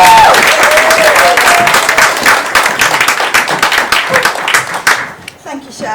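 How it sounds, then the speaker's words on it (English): Enthusiastic audience applause at a community arts and wellbeing mela in a mental health café, loud dense clapping filling the room for several seconds before fading, with voices mixed in. "So can you do a massive round of applause,"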